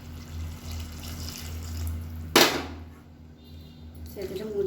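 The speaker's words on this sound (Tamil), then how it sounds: "குழம்புக்கு தேவையான தண்ணி சேர்த்துக்கலாம்." Water poured into a pan of potato and soya chunk curry, a short loud splashing gush after a quiet stretch, followed by fainter trickling.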